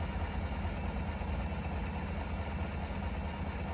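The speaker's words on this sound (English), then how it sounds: "We're gonna start it with the car idling." A car engine idles at a low, even rumble with a steady hum and no revving, heard alone at moderate distance.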